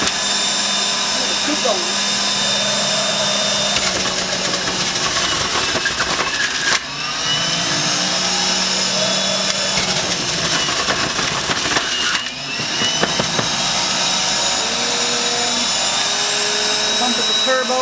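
A Nutribullet Juicer Pro runs with a loud, continuous motor whine and grinding, dipping briefly twice as the load shifts. A voice speaks briefly over it.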